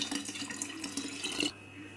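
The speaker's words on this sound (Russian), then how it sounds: "То есть добавляю туда воды." Water poured into a container while making blackcurrant dessert wine, a steady splashing trickle that runs close up for about a second and a half, then stops.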